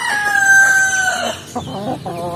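Native chickens cluck and a rooster crows nearby, with short clucking bursts from hens and young chickens following a drawn-out crow.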